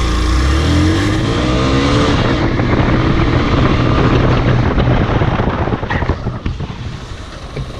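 A Hero XPulse 200 motorcycle accelerating along a road, its engine droning steadily under heavy wind rush, then easing off toward the end.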